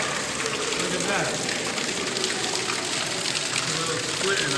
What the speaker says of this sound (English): that water is just shooting out of there